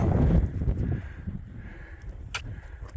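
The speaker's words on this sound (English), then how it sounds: "Kind of breezy up here." Wind gusts across the microphone near a mountain summit above the tree line, a loud low rumble at first that eases into softer breezy buffeting, with no talking.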